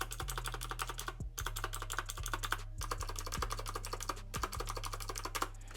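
Clicky typing on an AULA mechanical keyboard with standard blue switches, steady rapid keystrokes in bursts with brief pauses, close and fairly quiet, no talking.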